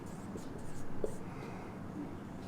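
Pen or marker scratching on a board or paper during a square root math lesson, faint and brief strokes over a steady background hum with quiet murmuring.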